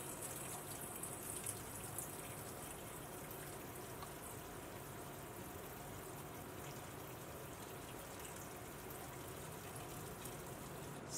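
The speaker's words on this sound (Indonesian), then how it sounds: "kita bilas dengan air mengalir" A glass microscope slide is rinsed under running tap water during Gram staining, a faint, steady hiss of flowing water that continues without a break.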